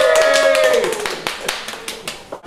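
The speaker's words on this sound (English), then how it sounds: "a round of applause for Mick Wallace TV." A short burst of clapping from a small group, fading out after a couple of seconds amid some background voices.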